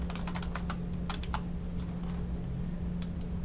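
A NetID and password go in on a computer keyboard: close, quick bursts of key clicks in short uneven runs with brief pauses, alone over a faint steady hum.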